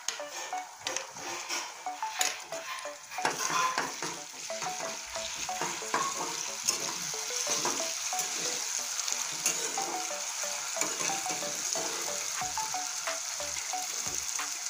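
Garlic paste sizzling with browned onions in a pan, a steady close frying hiss with occasional stirring scrapes, no talk over it.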